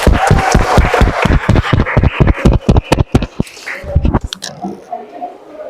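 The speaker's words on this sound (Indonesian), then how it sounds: "terima kasih dan tepuk tangan semua" Audience clapping hands in unison at an event, a rapid run of loud, sharp, evenly spaced claps that thin out into a few scattered ones and then stop, with some crowd noise.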